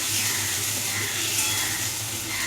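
Spice paste thinned with water bubbles and sizzles in a hot pan while being stirred for a katla fish curry, a steady close hiss with soft scraping throughout.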